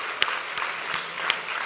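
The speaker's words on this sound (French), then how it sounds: "on peut l'applaudir encore" A small audience claps briefly for a guest in a studio, a handful of steady sharp claps close by, spaced evenly over a couple of seconds.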